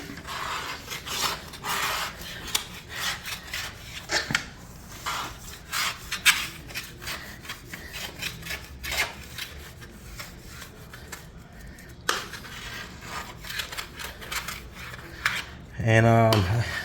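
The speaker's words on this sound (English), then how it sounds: "Get on our hands and knees and just scrape this stuff up and just sweep it up." Coating residue left by Rejuvenate is scraped and swept off a penthouse floor by hand, producing repeated close rasping and scratching strokes with occasional sharper scrapes and a louder shuffle at the end.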